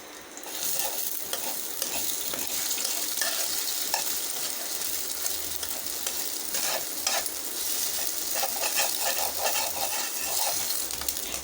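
A single egg fries in oil in a pan, a close, steady crackling sizzle with scattered sharper spits throughout, no voices.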